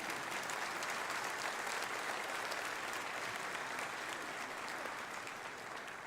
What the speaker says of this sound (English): You can applaud to say, thank goodness.